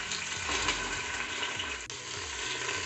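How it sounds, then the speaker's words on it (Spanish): Seasoned pork ribs sear in a hot pan with a loud, dense, continuous sizzle and crackle, close up with no voices. "ya tenemos aquí nuestras costillas previamente sazonadas con sal y pimienta. Vamos a ponerlas todas a sellar."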